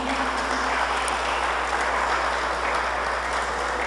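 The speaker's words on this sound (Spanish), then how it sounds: "¿Le puede dar un aplauso al Señor?" A church congregation claps together in a worship service, an even, continuous spread of applause at moderate level over a low steady hum.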